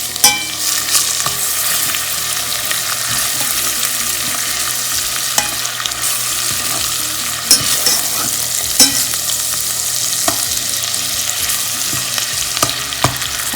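Spices fry and sizzle in a pan for a soya chunk biryani, with a constant crackling hiss broken by scraping stirs and clinks of the spoon against the pan, close and loud, with no voices.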